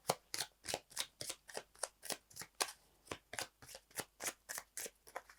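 Cards from a Sweet Dreams deck are pulled and slapped down in a quick, regular series of about twenty crisp paper swishes and flicks, close and moderately loud, with no talk.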